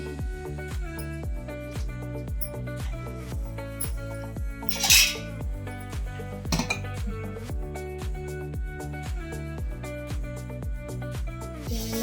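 Metal cookware clanks and rings repeatedly in a steady rhythm, with a few louder knocks, like a cooking pot being set and shifted on an empty tava griddle while making egg biryani.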